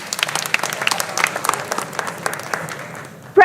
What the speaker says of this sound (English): Please clap well for them